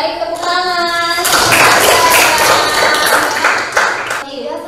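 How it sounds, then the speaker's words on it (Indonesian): A class of students claps together in a classroom for a few seconds, a loud, dense burst between spoken words from a teacher. "Baik, tepuk tangan."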